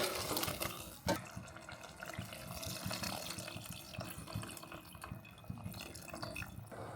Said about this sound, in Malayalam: ഒരു ശകലം വെള്ളം ഒഴിക്കുന്നുണ്ട്